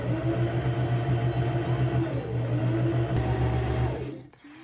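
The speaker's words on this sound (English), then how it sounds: "It's going to wind my bobbin now." A sewing machine winding a bobbin, a steady, close mechanical whir with a slight pulsing hum that runs evenly for about four seconds, then winds down and stops.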